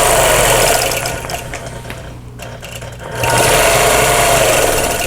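A longarm quilting machine stitches a table runner with a loud, rapid mechanical hum that eases off briefly mid-way, then returns to full speed.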